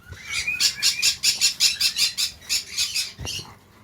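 In a mixed aviary of cockatiels and parrots, one bird lets out a rapid rhythmic run of about a dozen sharp squawking calls, close and loud, ending with a soft thump.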